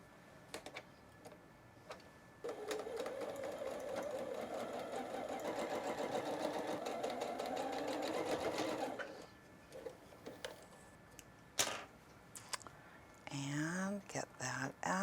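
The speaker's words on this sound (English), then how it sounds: "let's go to the sewing machine." A home sewing machine stitches pieces of a Shadowed Dizzy Geese quilt block in one steady, close whirring run of about six seconds, set between quieter handling sounds, with brief speech near the end.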